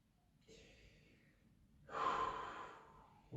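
Close, soft breaths taken during a yoga stretch, a light inhale followed by a longer, fuller exhale, quiet and breathy with no speech over them.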